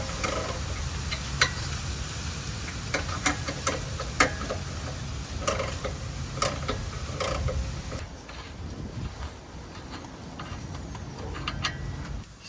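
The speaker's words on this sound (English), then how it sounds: "I got the 18 ratchet wrench here." An 18 ratchet wrench clicks in sharp, irregular ticks while a steering stabilizer is fitted to a Jeep JK, with faint workshop rustle between the clicks and no talk.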